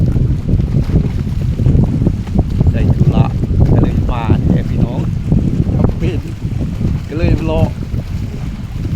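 On a cloudy November day at the Nong Sung pond, a strong cold wind roars across the microphone while waves slap the shore continuously, and someone talks over the loud, steady noise.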